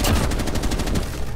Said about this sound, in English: Rifle ba yun?